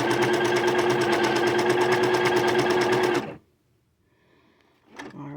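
A sewing machine runs a zigzag stitch at a stitch length of 3 on a 5/8 seam allowance, a loud, even mechanical whirring for about three seconds that then cuts off into near silence before a brief handling noise.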